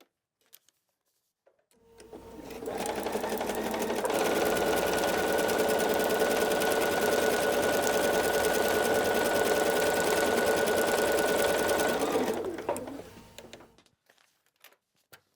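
A sewing machine stitches a foundation paper-pieced quilt block, its motor spinning up into a steady, close, rapid whirring drone that holds for about ten seconds before winding down to a stop.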